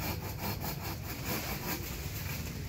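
A hand saw rasps through a mango tree branch in a steady back-and-forth rhythm, close and continuous, with a faint hum in the background.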